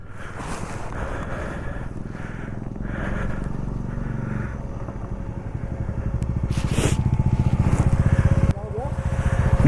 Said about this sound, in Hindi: I hear a motorcycle.